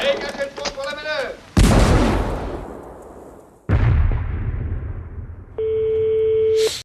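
Pirate ship cannons boom in a radio drama effect, two heavy blasts a couple of seconds apart, each decaying into a long rumbling tail, followed by a steady electronic tone; a brief voice precedes the first shot.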